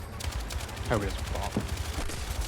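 Light machine gun fire in Battlefield 6 comes as steady, fairly faint bursts beneath someone speaking.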